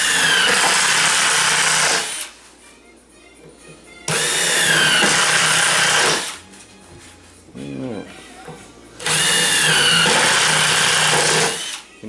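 Power drill fitted with a countersink bit whirs in three loud, high-pitched bursts of about two seconds each while kitchen cabinetry is installed, with speech in the quieter gaps between runs.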